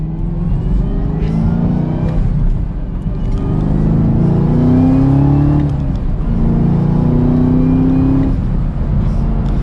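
A car engine pulls strongly while driving on the road, climbing into sixth gear with a steady, loud drone and rising, sweeping engine tones; no talking.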